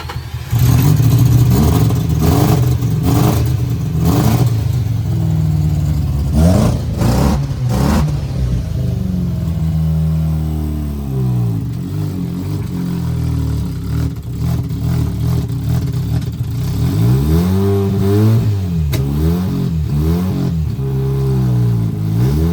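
A Mazda RX-8 rotary engine cranks and churns repeatedly, sputtering and catching in uneven bursts, with mechanical clatter, loud and close throughout; no exhaust connected.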